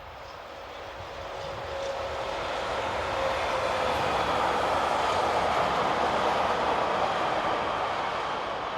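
Freight locomotive 26198 heads a short train south, a broad steady rumble and rail roar that swells over the first seconds and holds loud and continuous as it passes nearby.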